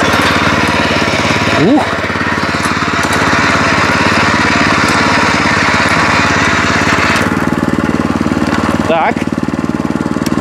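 A Loncin LC-1200 walk-behind tractor engine runs loud and close in a continuous rattling chug while the machine is driven, with a brief shift around midway and a man's short exclamations over it.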